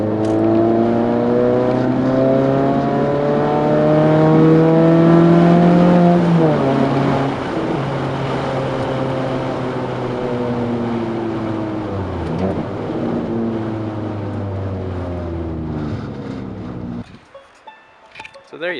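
Fiat Panda 100HP with FK coilovers drives past the microphone with a loud, close engine note. The revs climb and drop through several gear changes, then the sound cuts off abruptly near the end.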